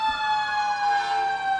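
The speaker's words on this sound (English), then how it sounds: "let you all listen to the sirens of the various" A steady, continuous siren tone from first-responder vehicles in a parade holds on without pause, loud and fairly close, with layered harmonics and traffic rumble faintly underneath.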